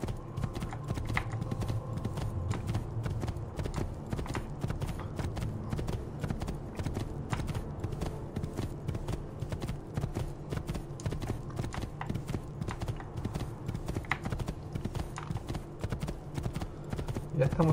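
Steady rapid clip-clop of a horse's hooves while riding in the video game Assassin's Creed II, continuous and close throughout, with someone talking over it.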